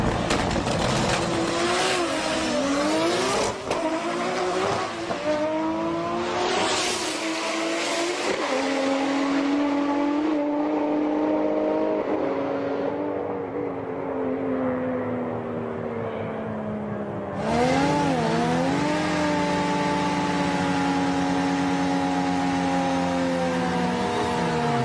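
Nissan GT-R cars drag racing at Sendai Highland, loud engines revving hard and climbing through gear changes in repeated rising sweeps, close and continuous with brief tire noise.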